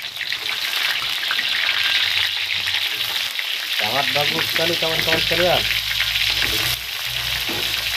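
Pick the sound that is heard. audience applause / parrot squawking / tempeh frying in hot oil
tempeh frying in hot oil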